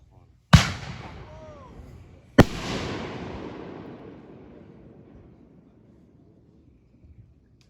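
Two sharp, loud firework blasts go off outdoors at a DeLong, Indiana Fourth of July display, each one rumbling and echoing away into a long fading tail, with a quiet pause in between.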